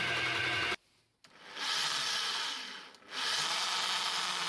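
Milling machine cutting the side of a metal U-section: loud, steady grinding whine that drops out twice, briefly, then resumes at full strength.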